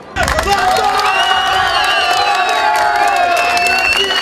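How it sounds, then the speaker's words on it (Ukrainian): Football fans roar and cheer after the final whistle as a player heads to the dressing room: a loud, dense, sustained stadium crowd with whistles and shouts running steadily throughout. "Ось так із ручними овацями проводжали в роздягальню після матчу фани Платона"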